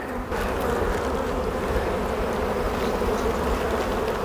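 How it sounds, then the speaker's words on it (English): A dense, steady drone comes from honey bees buzzing inside an opened hive on a queen-grafting day. The loud, unbroken hum is close by and stays even throughout, with no talking. "I've still got gobs of bees in this hive."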